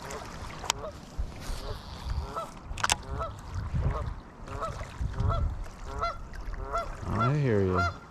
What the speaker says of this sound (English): Bunch of geese over there.